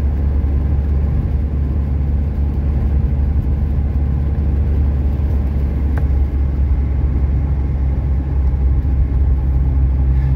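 A 1982 Mercedes 240D with a four-speed gearbox on a test drive gives a loud, steady low engine drone and road rumble heard from inside, unchanging throughout.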